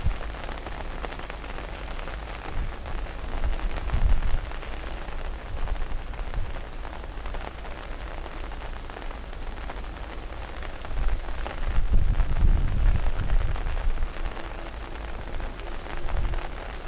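Heavy rain pours onto an umbrella at Dublin Airport, a dense steady hiss of drops with louder rumbling bursts where the umbrella shakes, close and continuous.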